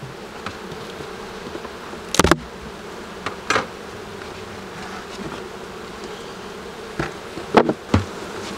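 Honeybees buzz steadily around an occupied hive in a Québec apiary, a continuous close drone with a few louder knocks and bumps breaking through.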